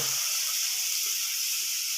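Steady, bright sizzling of onion frying in hot oil in a heated kadhai, a continuous crackling hiss without pause.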